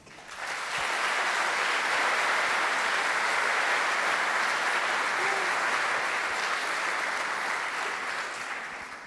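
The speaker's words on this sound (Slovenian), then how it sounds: "En lep aplavz" Audience at a children's song and dance show breaks into sustained applause, swelling quickly to a dense, steady roar of many hands and holding for several seconds before tapering slightly.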